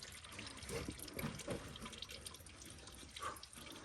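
Engine coolant drains steadily from a Toyota Camry Hybrid into a pan, a continuous trickling splash with a few louder gurgles, close by.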